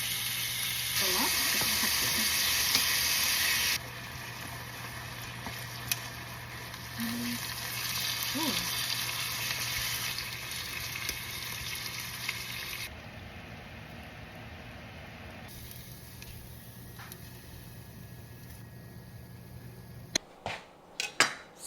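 Marinated lemongrass beef fries on medium-high heat with a soft, steady sizzle and hiss, and occasional clinks of a pan and utensils. Toward the end the frying drops away and sharper handling knocks follow.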